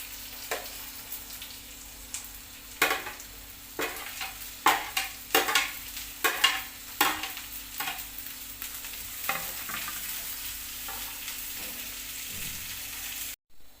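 Broad beans (avarakka) are dropped into a pan with curry leaves, giving a steady sizzle and fry broken by repeated stirring scrapes and clatters, close and moderately loud.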